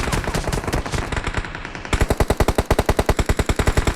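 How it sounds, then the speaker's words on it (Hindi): Video game gunfire: dense mixed shooting at first, then a loud, rapid machine-gun burst with evenly spaced shots close by. "यहाँ से मुझे फायर की आवाज़ आती है"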